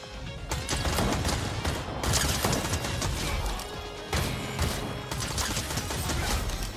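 Assault rifle fire in Fortnite, the underground chapter: dense, loud bursts of rapid shots with crashing impacts running nearly continuously, briefly cut off midway before resuming.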